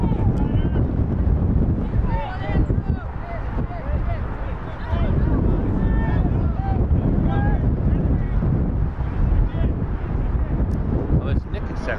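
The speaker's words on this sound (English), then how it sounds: "Windy out here in Field of Dreams." Strong wind buffets the microphone at an outdoor soccer field called Field of Dreams during a youth match, a steady loud roar with gusting swells running throughout, mixed with faint voices.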